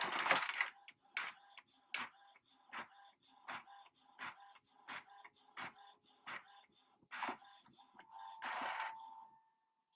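An Epson XP 410 small all-in-one wireless inkjet printer prints a page. It gives a rhythmic series of sharp mechanical clicks and clacks at roughly half-second intervals, ending in a longer whirring feed, close and fairly quiet.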